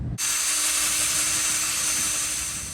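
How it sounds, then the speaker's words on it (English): A power drill whines at a high, steady pitch after a brief start, drilling a hole while installing an adapter on an RB26 engine, running continuously and close by for a few seconds with no speech. "So it looks like I gotta drill a 2nd hole, get the other line through."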